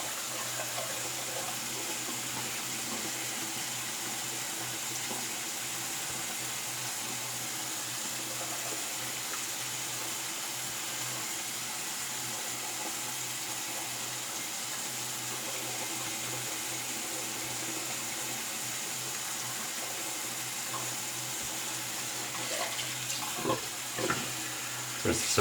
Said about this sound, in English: Rinse the soap out there.